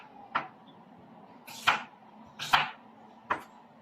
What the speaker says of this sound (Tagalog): umpisa na natin paghiwa ang ating mga sangkap